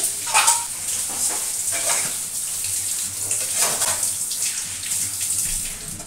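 Steady running tap water rinsing washed pots and dishes in a home kitchen, a continuous close splashing hiss with occasional clinks and louder gushes throughout.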